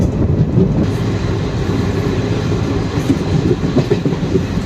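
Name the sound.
Salem-Karur passenger train running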